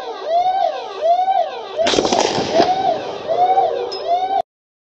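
During a police shooting incident, a quick burst of several sharp gunshots cuts through a loud, wailing, rising and falling police siren nearby, then the siren continues.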